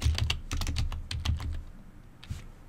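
Brisk typing on a computer keyboard, a fast irregular run of close, crisp key clicks that slows to a few scattered taps near the end.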